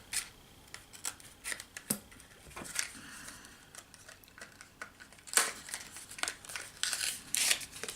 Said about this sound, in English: So let me see if I can get it with the scissors.